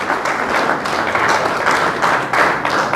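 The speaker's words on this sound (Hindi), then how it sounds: "तालियां" Steady, dense applause from an audience honouring a girl's dance performance at a community dance competition during a Vishwakarma Jayanti celebration, loud and continuous throughout with no pauses.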